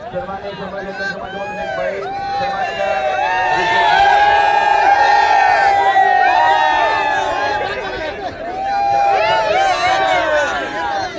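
A crowd at a race ground cheers and shouts loudly and continuously, with excited voices and whoops rising and falling in waves. Nearby talk and babble run throughout.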